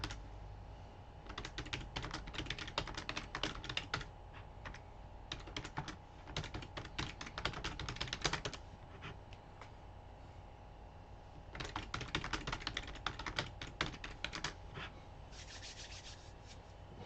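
Rapid bursts of typing on a computer keyboard, clattering in busy runs separated by short pauses, close and steady over a low background hum.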